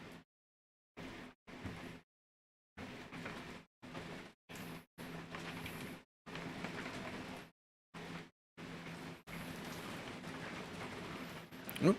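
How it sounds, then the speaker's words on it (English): Heavy rain pours down in loud, broadband bursts that cut in and out, dense and close. "that is a lot of rain"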